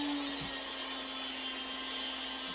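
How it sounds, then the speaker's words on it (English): Spindle of a machine cutting a wooden guitar neck: a steady high whine with a constant hum, plus a brief low knock near the start. "Turn your spindle on, which is right here."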